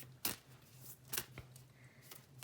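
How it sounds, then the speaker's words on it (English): Tarot cards shuffled by hand in a few quick bursts, soft papery riffles and snaps against a steady low hum, with brief pauses between. "I'm going to shuffle, shuffle,"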